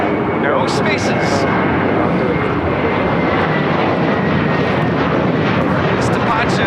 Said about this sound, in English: This departure is Delta Airlines 437 taking off to Boston on the 757-200.